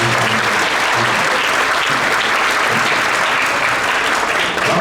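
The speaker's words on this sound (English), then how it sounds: "let's give a round of applause to the 8th graders" Loud, dense applause fills a school winter concert hall as the audience cheers 8th grade band students taking the stage, sustained and even with no speech.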